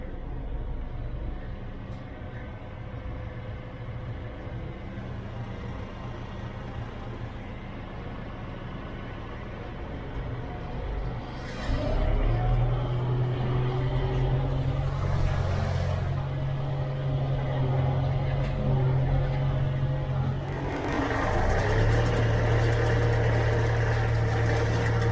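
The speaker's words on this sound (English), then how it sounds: "Just wait for the little scrubber tractor to come out" Small scrubber tractor engine on a cattle farm, idling and running with a steady low rumble that grows louder and deeper partway through as the machine approaches, close and continuous with no talk.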